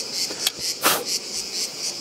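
Honeybees buzz around an open hive, a dense continuous high hum with a few louder swells as individual bees pass close.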